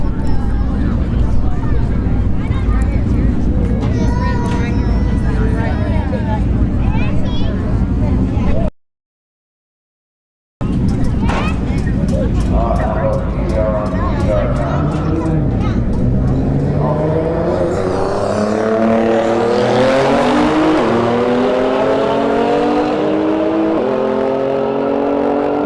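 Two Nissan GT-R cars drag race at Bradenton Motorsports Park during a street heat event. Engines rev and accelerate loudly under an announcer's talk, with a brief dropout and then a rising engine roar as the cars pull away.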